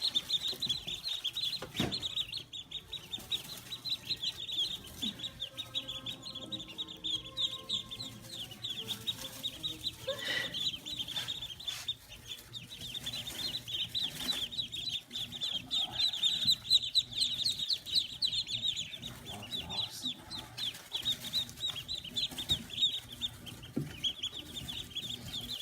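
Newborn ducklings, only hours old, peep on a Central Texas farm: a steady high-pitched chorus of thin chirps running throughout, fairly close, with occasional louder bumps and no talk.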